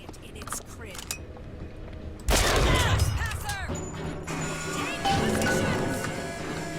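Defense turrets firing in the Bioshock Infinite video game, a sudden burst of rapid gunfire and crashing impacts that starts partway through and keeps going, mixed with game chatter and voices.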